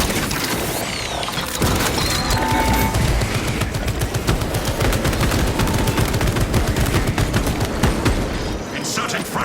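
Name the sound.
Tarantula sentry gun firing in video game Space Marine 2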